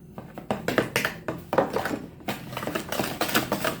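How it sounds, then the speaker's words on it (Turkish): Granulated sugar tipped into a mixing bowl for jam cake batter, a close grainy rattle and clatter against the bowl in several uneven bursts, with no talking. "Daha sonra toz şekerimi atayım."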